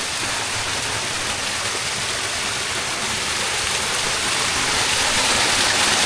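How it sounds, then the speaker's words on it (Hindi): A small waterfall at a hidden spot in Bacheli pours in a continuous loud broadband rush, steady and close, with no talk over it. "छोटा झरना है अपना।"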